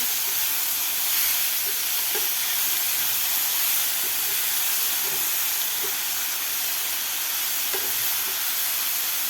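Tomatoes cooking in masala in a pan give a steady, even sizzling hiss throughout, with faint occasional stirring taps beneath, close and continuous, with no voices.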